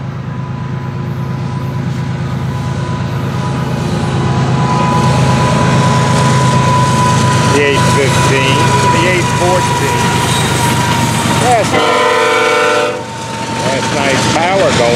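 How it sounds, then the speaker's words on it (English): A loud FEC freight train rumbles past close by, wheels grinding on the rails, with long horn blasts sounding near the end. "Great looking train here."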